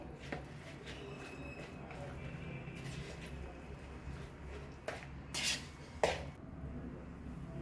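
Spices and chili flakes are stirred together in a bowl for a jumbo sandwich masala, giving soft, sparse clinks and scrapes of a spoon against the bowl.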